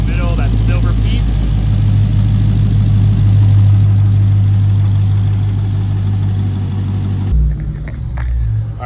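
Modified 5.7 Hemi V8 with a newly installed intake idles in a loud, steady rumble, close by, then drops off near the end to a quieter hum.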